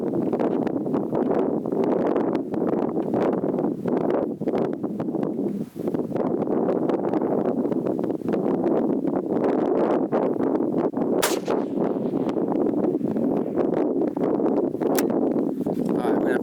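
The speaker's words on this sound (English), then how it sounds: "As you can hear, the wind is blowing." Strong wind roars steadily across the microphone at an outdoor rifle range, a dense continuous rumble that barely lets up, with a couple of brief sharp sounds cutting through.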